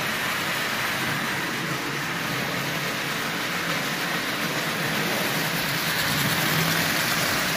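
A Marx Commodore Vanderbilt toy train runs steadily with a continuous, even whirring motor hum and a faint rattle, close and without voices.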